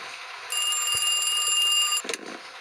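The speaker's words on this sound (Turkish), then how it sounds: "Telefon." A telephone rings with a steady, shrill electronic trill that holds for about a second and a half and then cuts off abruptly, followed by a brief clatter. Loud and near, with no speech.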